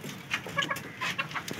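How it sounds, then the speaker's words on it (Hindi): A hen clucks in short, soft bursts nearby, a few quick clucks in a row. "अच्छा यहाँ पे अंदर बैठी है मुर्गी ना"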